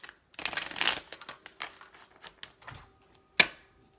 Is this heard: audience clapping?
no